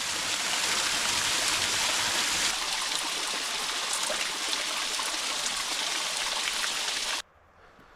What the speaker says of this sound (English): That is some fresh, cold, tasty water.